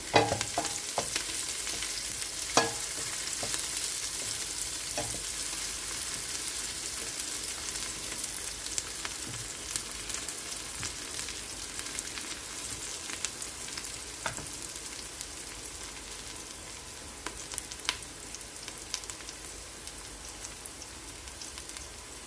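Ingredients for a bean stew brown and fry in a hot pot, a dense, continuous crackling sizzle with scattered sharp pops, steady and close throughout.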